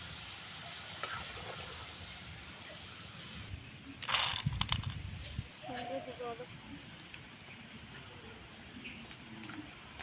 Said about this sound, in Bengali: লোতে করে ভাজলে পরে খুব সুন্দর কিন্তু ডালটা ভাজা হবে